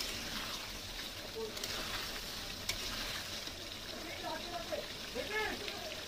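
Water splashed into a hot frying pan sizzles steadily with a hiss that holds through the whole stretch, while soft stirring scrapes and a voice speaks over it.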